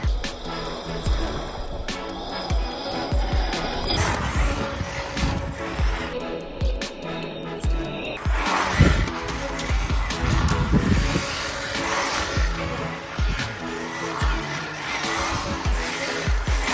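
An HPI WR8 Flux RC car on a 2S battery drifts, its electric motor whining and surging as the tires scrub, loud and near. Excited voices come in over the motor.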